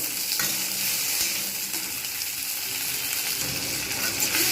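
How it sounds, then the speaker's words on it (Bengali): Tomatoes frying in a pan for bottle gourd kofta curry, a continuous bright sizzle with occasional stirring scrapes, close and steady with no talk. "এইবারে আমি এর মধ্যে দিয়ে দেবো টমেটোগুলো টমেটোগুলো একটু সুন্দরভাবে ভাজবো"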